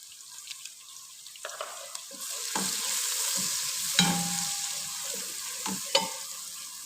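Pumpkin soup ingredients and spices stirred together in a pot, a spoon scraping and clacking in irregular strokes with a soft ongoing sizzle underneath, close and moderately loud, no talking.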